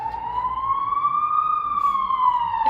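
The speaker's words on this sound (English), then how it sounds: "there's literally an ambulance outside" An ambulance siren sounds outside as one long, steady wail that slowly rises and falls. It is loud and clear and fills the whole stretch, with faint background noise underneath.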